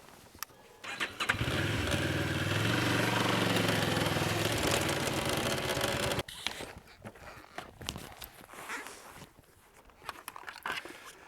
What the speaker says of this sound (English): once that bike pivots, then I pull the clutch in and I regain control.